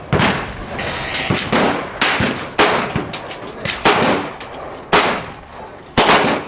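.357 Magnum revolvers fire outdoors in a series of loud, sharp shots spaced irregularly about a second apart, each with a booming echo, with a quieter pop or two between them.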